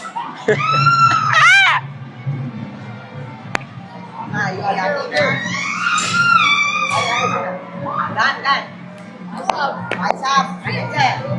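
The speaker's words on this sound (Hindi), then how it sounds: "ये क्यों चीख रही है भाई." A girl screams in shrill, rising bursts inside Galle Face Mall in Sri Lanka. The cries repeat over a murmur of indoor crowd noise, and people talk nearby.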